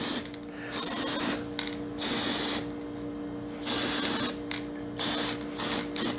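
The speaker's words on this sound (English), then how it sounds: "I actually have a can of Kubota orange on my shelf, so we'll just give it a little spritz of that" A spray can of Kubota orange paint spritzes a wheel rim in several loud, close hissing bursts, each about half a second to a second long and separated by short pauses, over a faint steady background hum.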